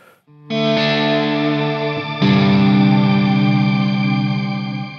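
Electric guitar runs through a Strymon Big Sky reverb pedal on its shimmer setting. Sustained chords ring out with a bright, pitch-shifted octave halo above them. A second strummed chord comes in midway, loud and close, with a long wash trailing behind.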